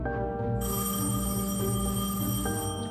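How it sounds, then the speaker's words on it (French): A telephone rings in a home in the Pas-de-Calais, a steady electronic ringing tone that carries on for several seconds and sounds fairly close, with no talking over it. "On a le téléphone qui sonne."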